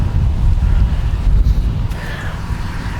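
Outdoors, wind buffets the microphone in a heavy, rumbling roar that stays loud and steady, easing only slightly toward the end.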